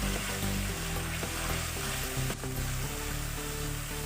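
Spices and cumin powder for Amritsari chole fry in a pan, giving a loud, continuous sizzle with rhythmic stirring strokes throughout, no voices.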